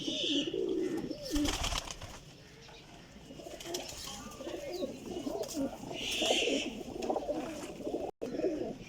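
Sialkoti pigeons cooing in soft, repeated throaty bursts at close range, with several birds calling over one another and faint chirps in the background.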